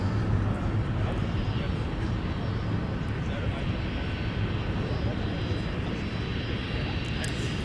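An Airbus A330-300 jet at Minneapolis–St. Paul airport roars with a steady, broad engine rumble heard from some distance, with a voice talking over it throughout.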